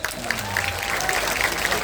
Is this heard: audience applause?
yes